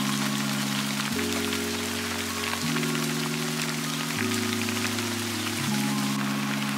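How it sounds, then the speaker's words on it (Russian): Heavy rain pours down under a clear, sunny sky, a dense, constant patter close by with a low droning tone running underneath throughout. "здесь небо чистое и плещет такой дождик. Вот смотрите, насколько он сильный."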